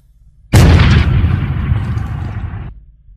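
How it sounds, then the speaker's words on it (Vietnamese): A loud, sudden explosion bursts out with a sharp onset, then a heavy rumbling roar that sustains for about two seconds before cutting off. "Bỗng một tiếng nổ vang lên, tôi chỉ kịp nghe một tiếng nổ lớn"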